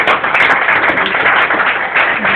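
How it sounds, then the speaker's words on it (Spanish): Church congregation at a Spanish-language service claps together in praise, a loud, steady, dense patter of hands throughout the short stretch, with no voices rising above it. "Den un aplauso al Señor en esta mañana."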